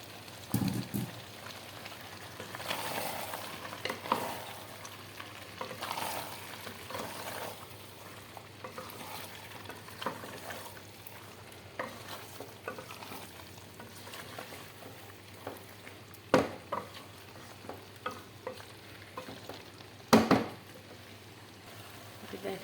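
Boiled taro stirred into a pot of frying beef curry, a soft continuous sizzle with occasional scrapes and clinks of the spoon, fairly faint and close, without speech.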